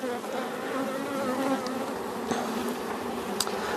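Honey bees swarm in an open hive during an inspection, a dense continuous buzzing drone close by and fairly loud, with a few sharper individual bee passes standing out.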